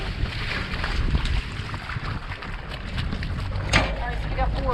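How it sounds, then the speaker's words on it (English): Gusty wind buffets the microphone on a crabbing boat working Maryland blue crabs, a steady broadband roar with water wash and a brief louder gust, while people talk faintly underneath. "You can see how windy it is."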